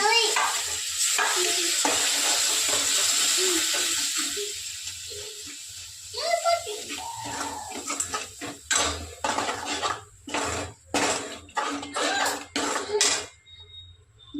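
Spice paste and tomatoes frying in a pan for a spicy soybean curry, a steady hiss at first, then a run of loud scraping stirs and clinks of a utensil against the pan.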